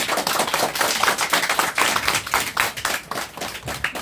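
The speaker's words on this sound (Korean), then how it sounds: "박수 한번 하시죠." Applause from a small crowd packed into a partitioned hall, with distinct, uneven hand claps rising and falling rather than a smooth roar.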